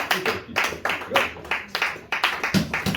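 Church congregation clapping together in rapid bursts with cheering voices mixed in, loud and close, filling the space with rhythmic applause.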